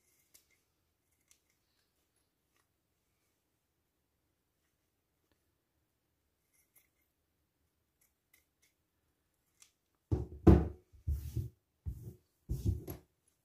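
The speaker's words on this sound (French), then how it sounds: "Vous coupez ce qui dépasse de votre fermeture éclair" Scissors snip off the excess end of a zipper tape for a sewing project, a short run of crisp cuts that follow a long stretch of near silence.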